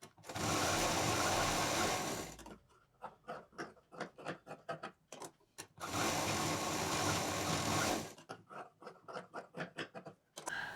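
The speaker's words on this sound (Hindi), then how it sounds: "अब जो लाइन खींची है उस पर मशीन चलाएंगे और साइड से कट कर देंगे।" A sewing machine runs along a drawn line on curtain fabric for a patchwork bag, with two long continuous runs, each followed by a stretch of short, jerky start-stop bursts.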